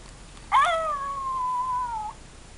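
A dog gives one long howl on command. It starts high and strained, then slides down into a sustained tone lasting about a second and a half, clear and close against a quiet room.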